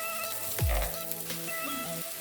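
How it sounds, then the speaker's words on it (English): Onions sizzling in a hot cooking pot for a pasta sauce with sausage balls, a steady close crackle and hiss with a brief stirring scrape near the start, no talking. "so we are going to add in our onions. And now let the magic begin, right? So just cook your onions to your desired liking."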